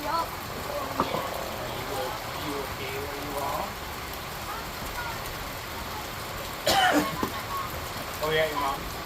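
Hard rain falls in a massive thunderstorm as a constant broad hiss, broken by a few short louder splashes or bumps and faint murmurs in the background.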